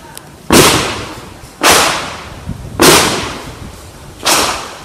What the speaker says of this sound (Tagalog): Live! Firing! 10 rounds sir ha.